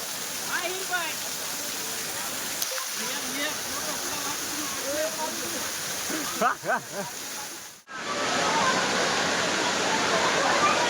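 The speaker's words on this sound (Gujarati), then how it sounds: "જો પાણીની ધોધ જોવો ખાલી." Jata Shankar waterfall in the Gir forest near Junagadh roars as a loud, constant rush of falling water, with people talking over it in places and a brief dip near the end.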